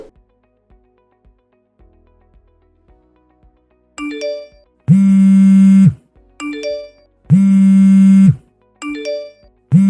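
A phone rings in loud repeated electronic bursts, long tones alternating with shorter jingling notes, after a few seconds of near silence with faint ticks.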